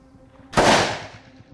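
A single large-calibre handgun shot cracks loudly at a shooting range aimed at steel turkey silhouette targets 150 metres away, a sharp close report followed by a short decaying echo.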